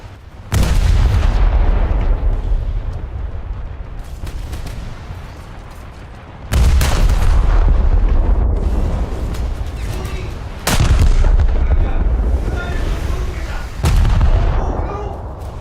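Heavy booming ship detonations and gunfire in a naval combat video game, a series of loud, close blasts, each rumbling and decaying before the next strike, with a voice occasionally underneath.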